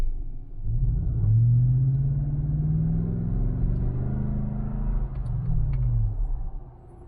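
Inside the cabin of a Lexus GX460 fitted with a MagnaFlow Overland Series exhaust, with the windows up, a deep engine and exhaust rumble swells as the SUV accelerates, then holds steady and eases off.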